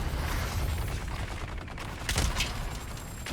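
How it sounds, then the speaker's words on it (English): Bursts of gunfire from a firearm in the Dune: Awakening game, a few sharp shots clustered near the end over a busy background rumble. "Oh, God, I love this gun, but it takes so long to reload."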